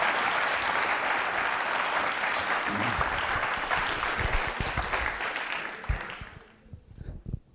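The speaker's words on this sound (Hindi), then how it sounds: "तालियां बजाइए डॉक्टर साहब के लिए और आप सभी के लिए" A school quiz-show audience applauds a doctor, a dense burst of clapping from many hands that holds steady for about six seconds before trailing off into a few scattered claps.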